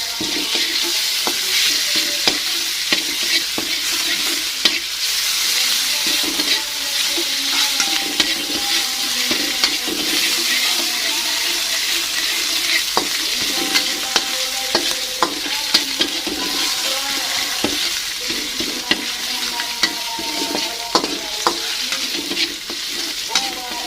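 Ground meat stir-fries in a pan with a loud, continuous sizzle, punctuated by frequent scraping and tapping of a spatula against the pan.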